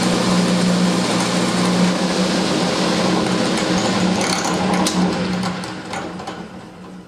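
A repaired household appliance motor with a new belt hums steadily and smoothly with a low, even drone and faint mechanical whir, close and unbroken before fading toward the end.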